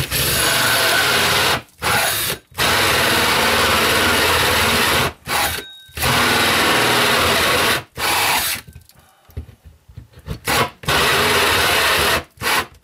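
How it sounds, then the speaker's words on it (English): A power drill bores a hole through a wall for kitchen plumbing in a tiny home. It runs in loud, grinding bursts of a few seconds each with brief stops between, and it stutters and catches near the end. "I take this in steps so I don't burn up the tool or overheat it."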